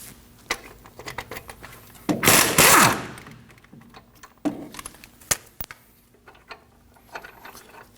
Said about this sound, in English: We can go ahead and remove both of the caliper bracket bolts using a 21 millimeter.